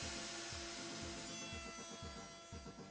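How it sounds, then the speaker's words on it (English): A router on a router table, fitted with a CMT furniture bit, cuts completely through wooden rails and into a coping sled, giving a loud, rough, continuous whine with a pulsing texture. "Cut completely through the rails and into the coping sled."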